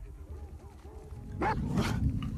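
In the video game The Last of Us Part II, a dog barks a few times sharply at mid distance, over a low rumbling game soundscape and faint whining tones.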